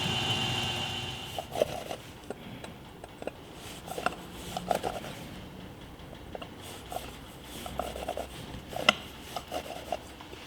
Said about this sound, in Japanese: これドリルに手を溶接してるだけなので、こう取ってたらバリが取れます。